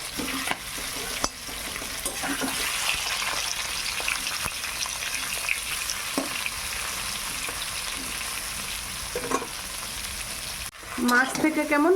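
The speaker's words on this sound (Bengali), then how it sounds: "আগে আমি মাছগুলো ভেজে নেব।" Fish, live shrimp, frying in hot oil in a home kitchen, a steady loud sizzle running throughout with occasional stirring scrapes and a few brief louder bursts near the end.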